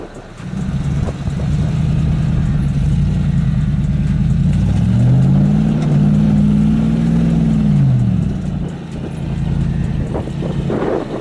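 Hummer H2 engine revving hard while climbing an off-road obstacle, a loud sustained growl that rises in pitch, holds strained, then falls back and settles toward idle.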